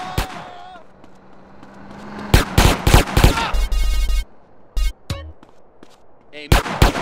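Gunfire in Grand Theft Auto San Andreas: loud sharp bursts of shots in clusters, some rapid and repeated, with game engine and vehicle noise between and a voice speaking briefly.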